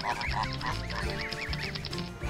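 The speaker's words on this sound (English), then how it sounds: "A goose family is walking through the city." A family of geese walking through a city honks repeatedly in a steady, busy chatter of overlapping calls over constant background noise.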